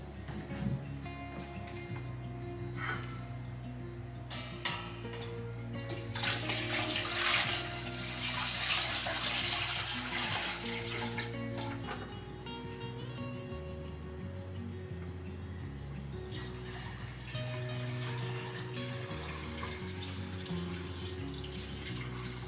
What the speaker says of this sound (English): If you listen really closely, you can hear when water's filtering through the top part.